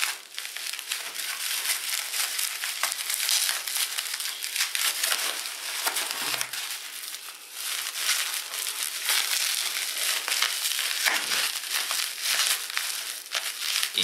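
Old scissors cut slowly and steadily at close range, giving a continuous crackly, crinkling rasp that carries on unbroken for the whole stretch.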